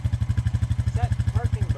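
A close ATV engine revving in fast pulsing throbs as it is driven into a trailer without ramps, a loud, rhythmic, chugging exhaust beat with brief higher whines toward the end.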